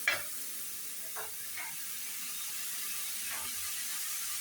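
Potatoes and pointed gourd sizzling in hot oil in a pan, a steady close frying hiss with a few soft stirring scrapes.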